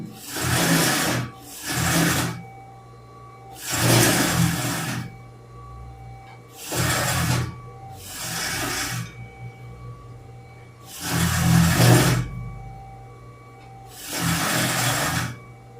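A non-electronic sewing machine stitching elastic for a child's pajamas runs in short loud bursts of rapid mechanical whirring, about seven runs separated by brief pauses.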